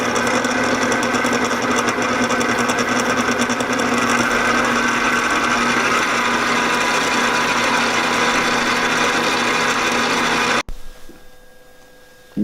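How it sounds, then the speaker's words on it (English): A stand mixer running on low blends oil with brown and powdered sugar for almond crunch cookie dough, a steady close whirring drone that cuts off abruptly near the end into near silence. "Start your stand mixer on low and blend it well."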